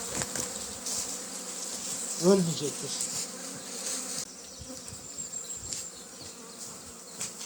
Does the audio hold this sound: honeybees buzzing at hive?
yes